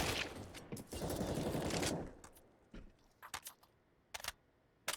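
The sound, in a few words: gunfire and grenade in a Counter-Strike video game match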